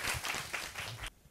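Applause from an audience at a Korean forum where a global leader meets students, a short burst of clapping that cuts off abruptly near the end, fairly close and moderately loud.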